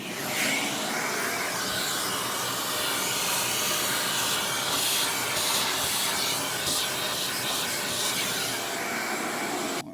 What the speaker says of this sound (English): Hit it again with the vacuum to clear all that out.